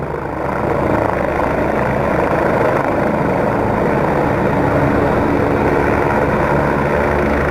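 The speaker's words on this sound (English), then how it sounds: "Here comes the chopper out now." A helicopter flies during a rescue demonstration at PUFfeR 2015, its engine and rotor making a loud, steady roar that holds unbroken throughout, with no voices.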